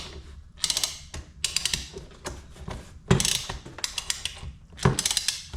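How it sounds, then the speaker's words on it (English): VEVOR banding strapping tensioner being ratcheted, producing bursts of sharp metallic clicking and clacking in repeated strokes with short pauses between, close and clear. "Then you're ready to start your tensioning. And you just keep ratcheting."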